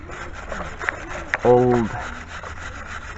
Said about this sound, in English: I'm just gonna go ahead and clean the surface of it.